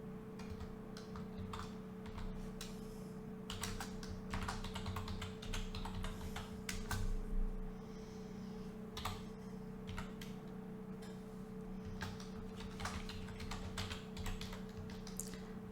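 Typing on a computer keyboard while writing a slide title, with quiet, irregular bursts of key clicks over a low steady hum, close and faint, and no voices.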